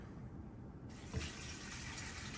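Water pours from a measuring cup into a pot holding an equal portion of rose petals for homemade rose water, a soft steady splashing that starts partway in with a brief thump.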